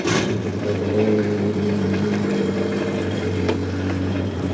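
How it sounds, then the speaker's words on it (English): A jet boat's port-side engine runs steadily at a low, droning idle, loud and close, with a constant rumbling hum throughout. "I'm gonna go ahead and start the port side engine."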